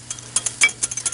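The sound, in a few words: stirring softened cream cheese into warm broth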